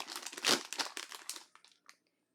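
Crinkly plastic rustling of 1 ounce chip bags from a variety box, a quick burst of crackling handling that thins out into a few soft, scattered crinkles.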